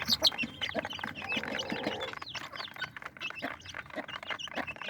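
A mother hen clucks steadily while her young chicks keep up busy, high peeping all around her, close and continuous for several seconds with no one talking.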